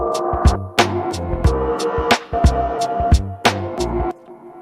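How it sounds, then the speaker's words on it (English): A lo-fi ambient soundscape loop built from resonant synthesized tones, played without bit crushing, pulses in steady rhythmic hits over a sustained hum before cutting off near the end. "you can also remove the bit crushing for a more lo-fi sound like this"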